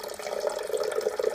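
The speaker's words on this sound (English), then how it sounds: "So you just pour it carefully to how many cups you want." Water pours steadily into a coffee maker's reservoir from a coffee pot, a close, continuous trickling stream with no talking.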